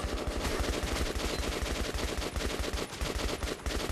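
Rapid automatic gunfire in the video game Metro Last Light Redux, a loud, dense stream of evenly spaced shots running almost continuously with a few brief gaps.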